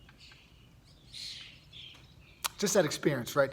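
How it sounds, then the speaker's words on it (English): Scattered bird chirps and short tweets in the background, fairly faint, before a person starts speaking over them. "there's a bunch of birds chirping in here."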